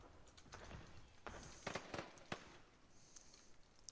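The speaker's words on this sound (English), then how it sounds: "Wow, it's a lot of fireworks, holy moly." Fireworks show in the video game Planet Coaster: a run of loud, sharp bursts and crackles spread over a few seconds, followed by quieter fizzing sparkle.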